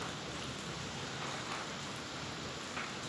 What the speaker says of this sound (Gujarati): લગભગ આવો વરસાદ તો મેં ન જોયો હોય